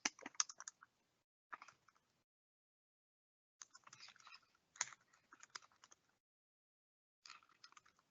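Bursts of typing on a computer keyboard during a Microsoft Forms quiz setup, quick clusters of key clicks separated by pauses of silence, fairly close and clear with no talking.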